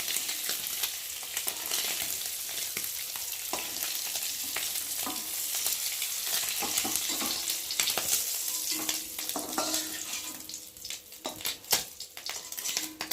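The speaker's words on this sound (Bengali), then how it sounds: "ভালো একটু হালকা করে ভেজে নিই" Eggs frying in hot oil in a pan, a dense crackling sizzle heard up close, broken by frequent sharp spatters and pops, easing slightly toward the end with some light scraping and pan knocks.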